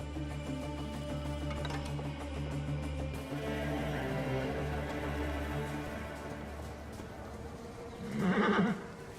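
A horse in Assassin's Creed Origins whinnies loudly near the end, after a stretch of steady ambient music and background sound.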